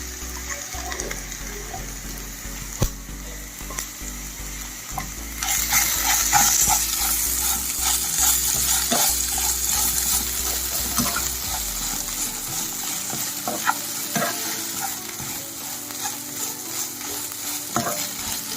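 Mashed boiled potatoes are stirred into frying onions and turmeric in a pan, a steady sizzle with repeated spoon scrapes and soft thick squelches; the hiss grows stronger partway through and keeps going under the stirring.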